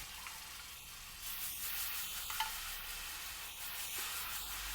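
Jaggery melts with two spoons of water in a hot pan, a steady soft sizzle broken by a few light stirring clicks, quiet and close.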